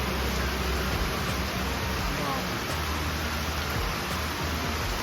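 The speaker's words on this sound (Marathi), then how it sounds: "हा आत्ता आलेला पाऊस आहे" Heavy monsoon rain in Mumbai pours down in a dense, steady roar, loud and close, with no break in the wash of noise for the whole stretch.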